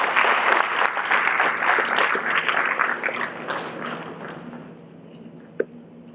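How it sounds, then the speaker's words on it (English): Audience applause at a school foundation programme greets the director, close and brisk at first, then thinning into scattered claps that fade out, with one sharp knock near the end. "So please give a round of applause."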